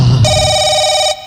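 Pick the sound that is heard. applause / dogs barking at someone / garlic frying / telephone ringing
telephone ringing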